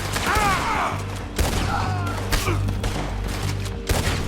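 Gunfire in Red Dead Redemption 2 during a shootout: several sharp, loud gunshot cracks and booms come at irregular intervals over a low game backdrop, with brief squealing effects between the shots.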